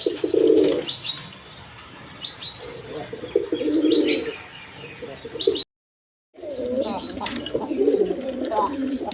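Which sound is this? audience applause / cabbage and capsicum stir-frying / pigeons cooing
pigeons cooing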